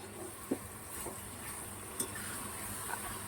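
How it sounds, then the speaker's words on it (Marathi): Chicken fries quietly in oil with onions that were fried first, giving a soft, even sizzle under a few light clinks of a utensil against the pan. "कांदा फ्राय केलेल्या तेलामध्ये आता मी चिकन टाकून घेणार आहे"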